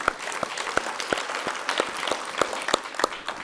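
Audience applause at a book reading with journalist Jerry Mitchell, a modest crowd clapping with sharp, distinct individual claps spread across the room, steady and fairly close, with no voices over it.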